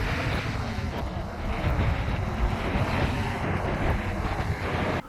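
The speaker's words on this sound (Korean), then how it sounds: "파도 소리가 들리는 이곳은" Ocean waves at San Francisco, recorded on a Galaxy S25 Ultra, roll as a steady broadband wash with wind buffeting the microphone, continuous and fairly loud with no talking.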